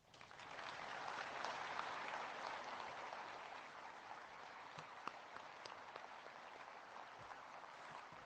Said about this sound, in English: please join me in recognizing our veterans' national leadership with your applause